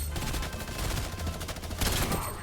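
A minigun in the video game Fortnite fires continuously, a fast buzzing stream of shots that swells louder near the end, with no voices over it.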